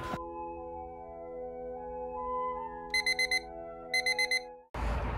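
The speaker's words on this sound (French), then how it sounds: "je crois que j'en ai trouvé le réveil qui fait le plus du mal" A hotel-room alarm clock set for 5:50 before a dawn run rings with a sustained electronic tone, then two bursts of four quick beeps. A loud rush of noise cuts in at the end.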